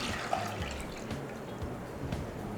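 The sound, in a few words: half litre of milk being poured into pan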